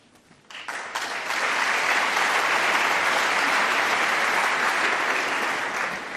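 A snooker match crowd breaks into applause that swells within a second and holds as a loud, dense, steady roar of clapping for several seconds.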